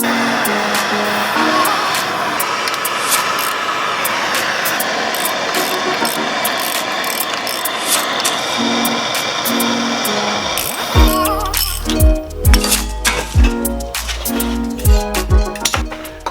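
Old emergency brake cable being pulled out of a 1987 Toyota, with a steady mechanical ratcheting grind that gives way near the end to sharp, irregular clanks and knocks of metal parts close by.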